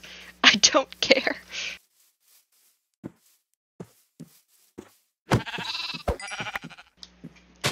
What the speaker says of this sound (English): There's another sheep! It has a child!